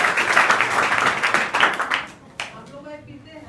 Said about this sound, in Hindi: 2 लोगों के लिए तालियां बजा दीजिए।